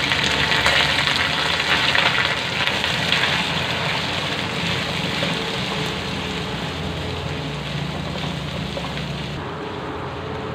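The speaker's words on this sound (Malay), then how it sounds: "Okey, bahan-bahan ni semua kita perlu tumis sampai dia bertukar warna" Onion and spices sautéing for vegetable biryani sizzle in hot oil with a steady, close, rain-like hiss that fades slightly toward the end, with no talk.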